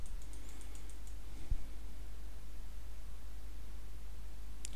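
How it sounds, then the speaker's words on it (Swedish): Keys tapped on a computer keyboard while solving a graphing equation problem, with a short burst of quick clicks at the start and a single firmer press near the end, faint against steady background hiss. "Så, och så trycker jag enter."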